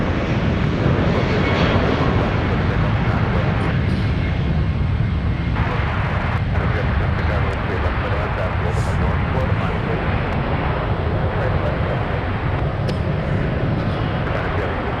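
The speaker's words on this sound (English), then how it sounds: "Already taken off, heading to Houston, Houston, Texas. Flight 619, 737 MAX 9," A Boeing 737 MAX 9 airliner on its takeoff run out of San Francisco, bound for Houston: a loud, steady broadband engine roar that holds for the whole stretch, with a voice talking over it.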